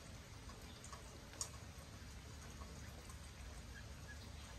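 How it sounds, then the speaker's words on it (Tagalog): Light rain falls outdoors in Texas, a faint, steady patter with scattered soft drips and ticks, quiet and continuous with no voices. "Umuulan, no?"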